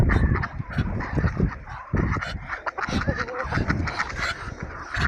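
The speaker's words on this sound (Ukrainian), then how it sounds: "в мене качур молодий півня добиває" A young drake and a rooster fight in a noisy scuffle, squawks, honks, flapping and calls overlapping close by, with people talking over the commotion.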